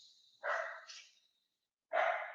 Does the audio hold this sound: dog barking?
yes